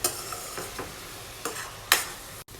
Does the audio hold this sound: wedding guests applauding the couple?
no